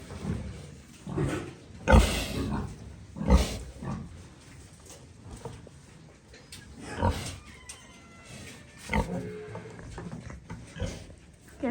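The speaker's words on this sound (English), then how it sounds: "These pigs are such dirts." Pigs on a Wisconsin farm during farrowing season give repeated grunts and louder squealing bursts at irregular intervals, close by, with quieter snuffling between.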